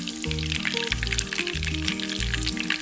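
Coated chicken pieces for Chicken 65 deep fry in hot oil with a steady, bright crackling sizzle, close and continuous, under a looping musical backing.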